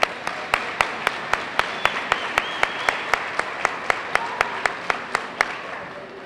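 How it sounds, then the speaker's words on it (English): Applause at a PTA children's banquet, honouring the cafeteria staff: a mass of clapping from the banquet audience, with one loud nearby clapper striking a steady, evenly spaced beat on top. "So I'd like to give them a round of applause."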